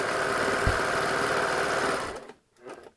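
A sewing machine runs steadily, stitching fold-over elastic onto fabric for 18-inch doll underwear, with a continuous motor whir and rapid needle chatter that stops abruptly near the end, followed by a brief faint rustle.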